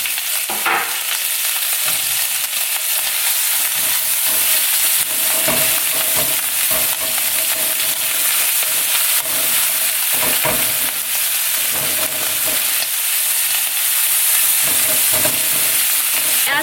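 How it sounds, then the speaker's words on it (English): Prosciutto sautéing in butter and olive oil in a pan for chicken Marsala, a steady, dense sizzle and crackle of frying fat with occasional stirring scrapes, close and continuous throughout, no talking. "We're going to add prosciutto and we're going to saute that up"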